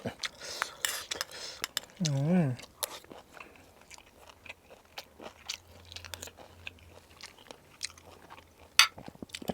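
Puffball mushrooms in a Thai curry with chaplu leaves being chewed close up, with crunchy bites, clinking cutlery and dish sounds scattered through, and a brief voice near the start.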